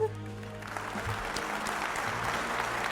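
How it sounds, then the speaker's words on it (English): Applause from an in-game awards ceremony audience in the video game Murder by Numbers, a steady wash of clapping lasting about three seconds at moderate level with no talk over it. "Big round of applause for Sarah, everyone."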